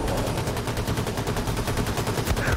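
Rapid, continuous automatic gunfire in Wolfenstein II: The New Colossus, loud and close, a steady rattling stream of shots with no talk over it.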